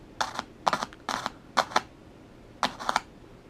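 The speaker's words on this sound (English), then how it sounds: "Touch them together and you'll hear a static noise" Car speaker wires touched to a AA battery give sharp crackling bursts of static, about seven short clustered pops at an uneven rhythm, close and distinct, with no talk.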